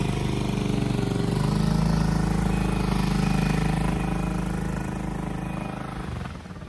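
A rented motorcycle hums along a road in General Luna, Siargao, its engine droning steadily up close before easing off and fading toward the end.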